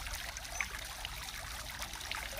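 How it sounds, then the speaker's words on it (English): A garden water feature trickles steadily, a soft continuous splashing and dribbling heard fairly close with no voices. "Water features."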